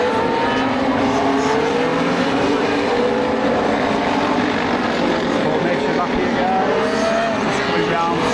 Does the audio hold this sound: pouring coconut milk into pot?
no